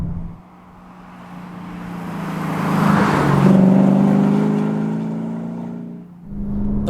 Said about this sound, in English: this car's sole modification you may already be enjoying, which is the Quicksilver back box, and it frees up a glorious noise